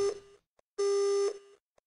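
A steady electronic tone from a dead phone line in the Silent Hill Play Novel video game sounds twice in a clean, close loop: a short burst, a pause, then a longer one, with nothing else around it.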